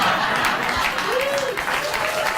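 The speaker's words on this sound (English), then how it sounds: "She always gets applause wherever she goes" Studio audience applause on a late-night TV talk show, a steady wash of clapping with a brief tonal whoop or voice rising through the middle.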